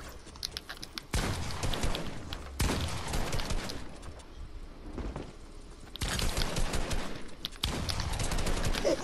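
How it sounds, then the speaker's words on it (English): Rapid gunfire from a shotgun in the Fortnite video game, with dense bursts of shots in several loud stretches and a quieter gap between them. "My shotgun will shoot!"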